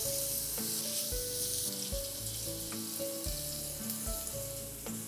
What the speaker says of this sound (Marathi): इथे दोन मोठे कांदे मी बारीक चिरून घेतलेले आहेत व्यवस्थित परतून घेऊया